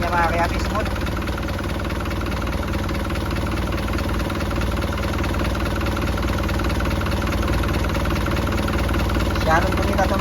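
Isuzu 4HL1 diesel engine idling smoothly, a steady close rumble with an even low throb that holds unchanged throughout, with someone speaking briefly over it.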